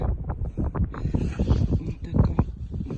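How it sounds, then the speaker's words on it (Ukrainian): Steady gusting wind buffets the microphone during rain while metal detecting outdoors, a rough rumbling roar that continues throughout with no clear pauses. "Так, друзі, такий дощ, вітер, але копаємо."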